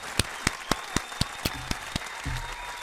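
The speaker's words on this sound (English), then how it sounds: "Give him a big round of applause." Scattered claps from a small audience for guest Gil Gatsby, a pastor, coming as a few separate sharp slaps spaced about a quarter second apart before a soft murmur rises.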